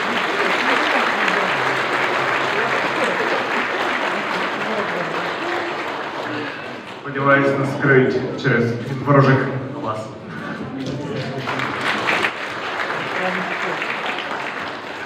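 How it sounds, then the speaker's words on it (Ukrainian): An audience applauds at an awards ceremony for the 2024 motorsport season, loud steady clapping that gives way to a spoken passage, then swells again near the end. "Ваші оплески!"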